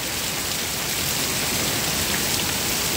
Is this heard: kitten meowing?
no